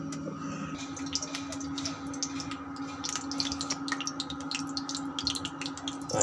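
Breakfast plates are rinsed under a running tap in a home kitchen, with a steady stream of water and scattered clinks and splashes from the dishes, close and moderately quiet throughout.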